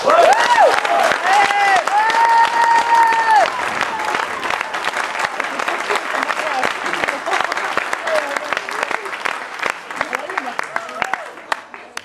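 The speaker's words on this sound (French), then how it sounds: "et à la réalisation des décors, nous applaudissons Bertrand." An audience applauds at a theatre company's curtain call for the amateur play Larguez les amarres by Jean-Claude Martineau. Sustained, loud clapping fills the room throughout, with a voice speaking over it at the start.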